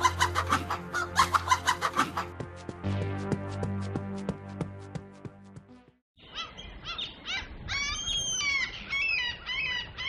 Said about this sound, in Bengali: রাতে এক চোর এসে বুড়ির অগোচরে সবগুলো মুরগি ধরে নিয়ে গেল।